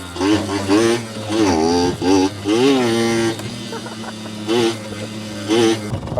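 A rebuilt Yamaha YSR50 mini street bike engine, close and loud, revving in repeated quick rising-and-falling bursts over a steady idle, with a voice briefly heard.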